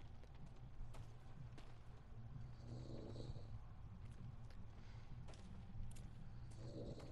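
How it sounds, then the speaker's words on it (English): A guard in Ghost of Tsushima snores softly in slow, repeated breaths, faint and low beneath steady ambient game background noise. "Oh, I hear somebody snoring."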